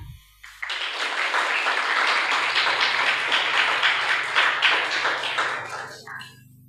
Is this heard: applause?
yes